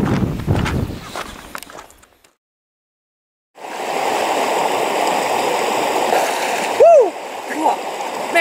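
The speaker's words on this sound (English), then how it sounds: "I just decided to jump in the creek to cool off a bit" A person jumps into a creek in New Zealand: loud splashing and churning water at first, then a brief silence, then a steady rush of flowing stream water close by.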